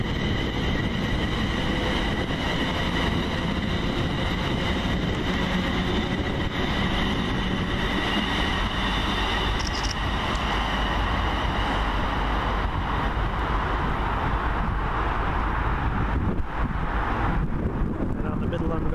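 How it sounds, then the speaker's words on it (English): A fast coal train passing on the middle line at Cardonald: a loud, continuous rumble of wagons with wheel squeal and wind buffeting the microphone throughout. "And out the middle line we've got a fast coal train"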